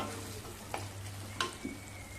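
Tomato masala for veg dum biryani sizzling in oil in a pan, a soft continuous crackle with a few sharper pops and a low steady hum beneath, close by and with no talk.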